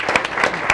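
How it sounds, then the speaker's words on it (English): Brief audience applause for a seminar panel on climate change resilience, a short burst of scattered claps with a few sharp individual hits standing out. "a round of applause"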